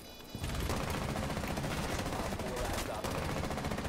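Rapid, loud automatic gunfire from a video game shooter, a continuous burst of shots after a brief quiet start, with a player's voice talking faintly under it.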